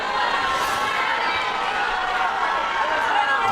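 A boxing crowd cheers at ringside in a steady, dense roar of voices that holds without a break, loud and enveloping, with a commentator's voice faintly mixed in.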